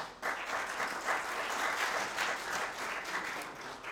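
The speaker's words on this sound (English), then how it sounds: "thank you for that applause" Audience applause at a public debate on a local ballot measure, a continuous, even patter of many hands clapping at moderate distance throughout, with no talk over it.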